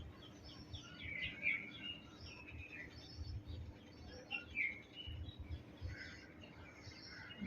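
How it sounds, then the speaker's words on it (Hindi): Birds chirp outdoors in sunny, breezy weather, with short bright calls that come and go at moderate distance over a low, steady background rumble. "देखिए चिड़ियों की आवाज़"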